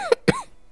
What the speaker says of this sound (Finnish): anteeksi tuo yskiminen